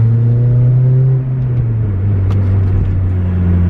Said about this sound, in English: This car's just loud all the time.